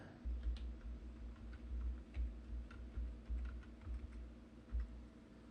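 Typing on a computer keyboard: close, quiet bursts of key clicks in an uneven rhythm, with soft thuds between them.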